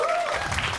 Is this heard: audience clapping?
yes